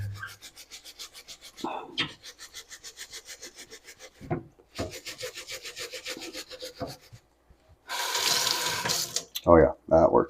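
A brush scrubs a sudsy Danner Bull Run moc toe leather boot in quick rhythmic back-and-forth strokes, close and distinct, pausing briefly, then a burst of running water and handling sounds near the end.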